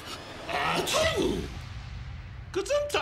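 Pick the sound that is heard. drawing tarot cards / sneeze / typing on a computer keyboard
sneeze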